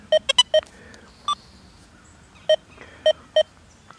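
Deus 2 metal detector sounding target tones, a series of short sharp electronic beeps, a quick cluster at first, then spaced single beeps, loud and close over quiet background.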